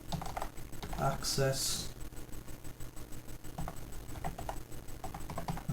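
Rapid clicking of keys on a computer keyboard as network commands are entered, with steady bursts of keystrokes running under a speaking voice throughout.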